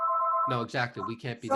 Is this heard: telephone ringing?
yes